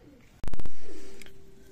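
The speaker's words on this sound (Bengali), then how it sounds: "ভিউয়ার্স এখানে কবুতর আছে দেখেন" Domestic pigeons in a loft, including Pakistani Teddy and Black Saharanpuri birds, give a low, drawn-out coo after a quick run of loud, sharp knocks; the call fades gradually and a faint voice sits in the background.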